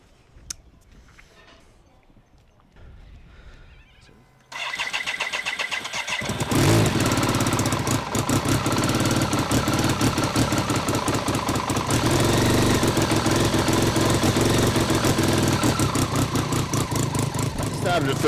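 A motorcycle with something wrong kicks over and catches on the first attempt, then settles into a steady, loud idle close by after a few quiet seconds of fiddling and light handling noises.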